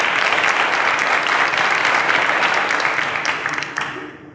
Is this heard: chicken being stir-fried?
no